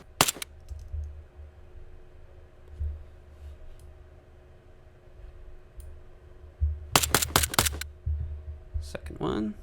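Recorded gunshot samples are triggered from a custom sound-design instrument: a sharp crack near the start, then a rapid cluster of sharp shots later on over a low humming background, with a few smaller clicks and a brief bit of talk.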